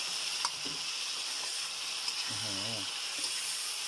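Mushrooms fry in oyster sauce in a pan as they are stirred, giving a soft, steady sizzle with a few light scraping clicks, while someone briefly speaks over it.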